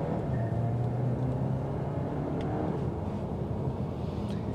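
A 2022 Volkswagen Arteon R-line with a turbocharged engine accelerates, giving a loud, close, low rumble with a rising engine tone that fades slightly, no talking.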